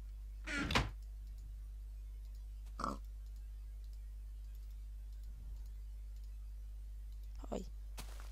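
A Minecraft pig gives a few short, faint oinks spaced several seconds apart over a quiet, humming background.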